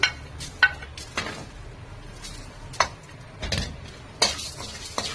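Cumin seeds dry-roasting with chana dal in a pan, stirred with a spoon: a light, steady rustle with sharp scraping clinks at intervals, close and fairly quiet, no talk.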